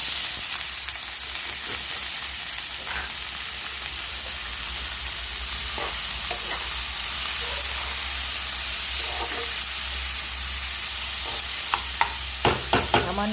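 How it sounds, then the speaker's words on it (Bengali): Carrot, capsicum, onion and green chilli hiss and sizzle steadily in hot oil in a wok, with occasional soft stirring scrapes and a few sharp clanks near the end. "এইগুলো একটু নেড়ে নেবো সামান্য।"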